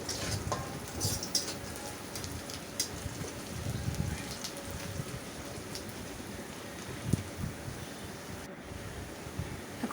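Onions fry in a pan until brown, giving a steady, rain-like sizzling hiss at moderate volume with occasional small crackles and no clear speech.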